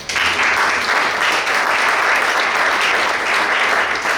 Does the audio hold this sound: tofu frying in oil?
no